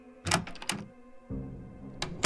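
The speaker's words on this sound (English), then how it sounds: "The door to the lounge." A door opens in the audio game Frequency Missing, a heavy mechanical clunk and slide in bursts, then a lower rumbling movement and a final thump, loud and close with no talk.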